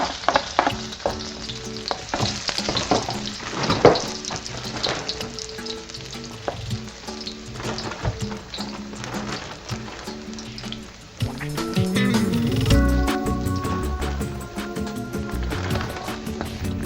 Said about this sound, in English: first, saute your garlic and then also your sugar to caramelize